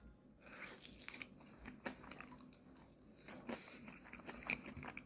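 Someone bites into and chews buffalo wings up close, with soft crunches and wet chewing in irregular bursts, quiet overall with no talking.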